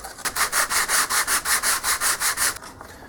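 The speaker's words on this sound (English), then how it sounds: "So now I just have to get the sanding block and do all the crevice details" Rhythmic back-and-forth rasping of a sanding block rubbed over the crevices of a wooden foot pattern, about a dozen even strokes, close and fairly loud, with no voices.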